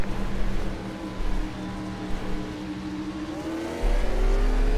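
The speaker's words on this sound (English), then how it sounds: "He must be starting in first gear. I heard so many revs." A 2003 Cup race car engine in the iRacing video game revs hard at the green flag at Nashville Superspeedway, loud rising and falling revs with a tire squeal, swelling again near the end.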